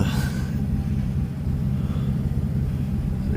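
A 2008 Ford E250 van's 5.4L engine idles close by with a steady low rumble, an accessory belt pulley adding a faint noise over the drone.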